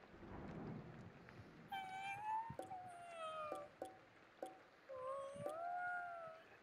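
A cat meows repeatedly in the video game Ghostwire: Tokyo, several drawn-out, rising and falling cries over a faint, rumbling background of rain and distant thunder.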